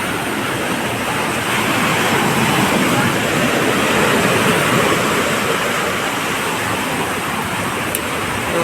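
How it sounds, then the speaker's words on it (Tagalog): Loud, continuous roar of large ocean waves crashing on shore during a typhoon in Sablayan, Occidental Mindoro, a dense wash of breaking water filling the whole stretch, steady and close. "malaki ang dagat. Malaki pa ang alon."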